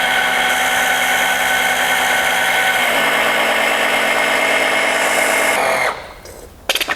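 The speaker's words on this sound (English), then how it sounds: "we'll suck it up through the dipstick, back, push it back through the pump for a while and then reverse it" A small electric oil pump whines steadily and loudly close by while circulating oil out of a hybrid BMW M42/M44/M47-B21 engine's sump through the dipstick tube, its pitch dropping partway, then cutting out near the end.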